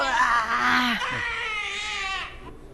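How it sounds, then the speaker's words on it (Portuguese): A baby cries in discomfort, a sustained, strained wail with whimpering breaks, fairly close and continuous before fading out. "Esse já é um choro de alguma coisa incomodando mesmo"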